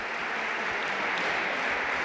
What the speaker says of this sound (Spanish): Ahí tienen al público de Almazán aplaudiendo.